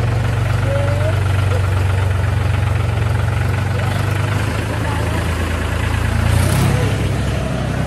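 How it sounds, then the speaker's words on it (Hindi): A low, steady tractor engine drones continuously throughout during a ride to the fields, a heavy idling rumble that stays close and constant, with faint voices mixed in. "आज मैं जाने वाली हूँ ट्रैक्टर ड्राइव पर"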